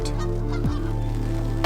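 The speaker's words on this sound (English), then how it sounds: "sorry about the ducks as well, they're having a little toot" Ducks on a cold, windy lake let out a short honk beneath a loud, constant rumble of wind.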